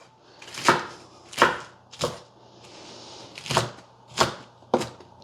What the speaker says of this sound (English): Then I already washed and spun this lettuce. So what I do is I chop it so it's easier to eat.